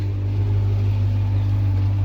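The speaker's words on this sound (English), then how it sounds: "So I'll give it a few revs." A 1977 Ford Fairlane ZH V8 with a Holley Redline carburettor runs at a steady, low idle, its deep engine hum constant and close for a couple of seconds without clear revving.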